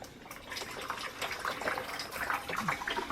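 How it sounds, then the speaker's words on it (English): Water runs steadily into the tank of a DC hybrid water heater during cold, freezing weather, a continuous close gushing hiss with no talk over it. "You can start to fill up the tank, which is going to fill up here."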